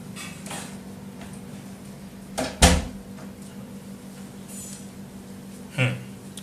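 A door in a room bumps shut with a sharp knock, followed by a second, softer thud a few seconds later, against a quiet background hum.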